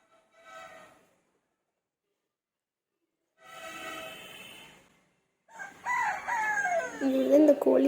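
A rooster crows among chickens in three separate bursts, the first two fairly faint and the last louder and closer, mixed with clucking.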